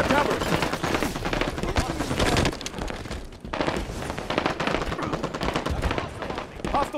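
Dense automatic gunfire and shots from a Halo-style Big Team Capture the Flag match on the Basin map, sustained rapid bursts filling the whole stretch, loud and close, with a voice briefly speaking over the shooting.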